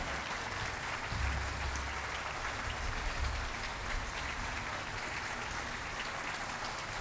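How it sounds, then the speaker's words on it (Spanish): Applause for a municipal youth orchestra at a formal ceremony marking the Supreme Court's bicentennial, a dense, even wash of many hands clapping from a sizable crowd, sustained at moderate volume throughout. "Un fuerte aplauso para la Orquesta Juvenil Municipal de La Pintana."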